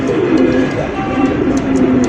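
Large, colourful Rasgolla pigeons coo in low, continuous tones, several birds calling together at close range with a busy, steady background.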